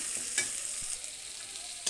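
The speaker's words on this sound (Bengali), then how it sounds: "ভালো করে মশলা সবগুলো নিয়ে একটু কষিয়ে নেব।" Chilli and turmeric powder sauté in hot oil in a pan, a soft continuous sizzle broken by a few quick scraping strokes of a spoon stirring the spices.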